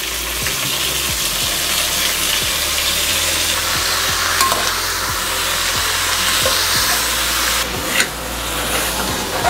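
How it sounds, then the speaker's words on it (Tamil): Onions and tomatoes sauté in oil inside a pressure cooker, giving a steady close sizzle with faint scraping stirs that tick at intervals, no voices. "வெங்காயம் தக்காளி எல்லாத்தையும் ஒன்றாவே போட்டு வதக்கிடுங்க"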